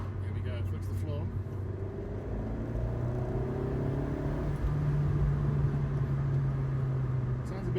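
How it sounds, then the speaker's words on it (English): An Abarth Grande Punto fitted with a K&N aftermarket air filter pulls hard under full throttle in traffic, its engine note rising steadily as it accelerates, with a voice talking over the drone. "Here we go. Foot to the floor."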